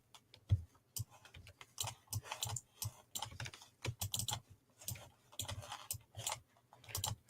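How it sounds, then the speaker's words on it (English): Quiet, close clatter of a computer keyboard being typed on with mouse clicks mixed in, in irregular bursts of keystrokes with short pauses, no voices. "apologies about all the clicking"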